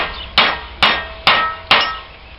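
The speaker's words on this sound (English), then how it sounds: "Now I'm going to tap on it and get it up here flush" Four evenly spaced sharp hammer taps on a metal part of an old Owatonna swather during servicing, loud and close, each ringing briefly before the next.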